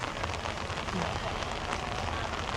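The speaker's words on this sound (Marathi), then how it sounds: "पाऊस पडतोय" Steady rain patters on surfaces in an even, close hiss that stays the same for the whole stretch, with no talking.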